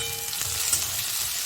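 Chopped onion fries in a pan, making a steady, fairly loud sizzle close by for a short moment with no speech.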